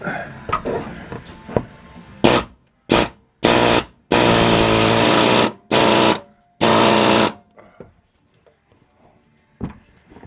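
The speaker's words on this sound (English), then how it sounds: "Now let's try getting that air hammer in there one more time and see if we can't get that out." An air hammer works on the upper ball joint of a 2007 Chevrolet Silverado/Avalanche, firing in loud, close bursts: several short rattling blasts, then two longer runs, separated by brief pauses with faint shop noise between.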